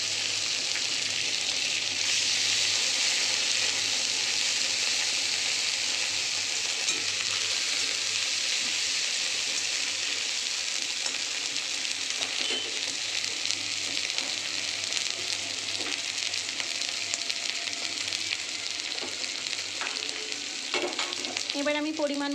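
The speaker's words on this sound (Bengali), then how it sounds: "এবার আমি তেলের মধ্যে দিয়ে দেবো আদা রসুন পেঁয়াজের পেস্ট, আর সেই সঙ্গে টমেটো কুচিগুলো।" Ginger, garlic and onion paste with chopped tomatoes frying in hot oil for a Bengali chana ghugni, a steady broadband sizzle that holds for the whole stretch, with a few stirring clinks near the end and no voices.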